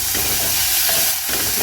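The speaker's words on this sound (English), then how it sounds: "I'm just going to be frying with a teaspoon of oil or butter" Carrots frying in a teaspoon of oil or butter give a steady, close hiss and sizzle that runs continuously without pause and without any voices over it.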